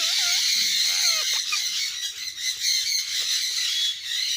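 A bird squawks in loud, harsh bursts, with sharp calls early on and then a dense run of grating cries, close and clear with no talking.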